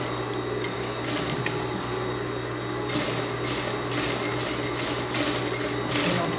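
A sewing machine stitches a seam with backstitching on a tailored vest, a steady mechanical whir and hum that runs throughout with brief bursts of faster stitching.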